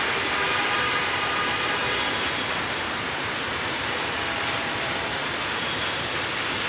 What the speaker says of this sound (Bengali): আজকে ঢাকায় অনেক বৃষ্টি হচ্ছে।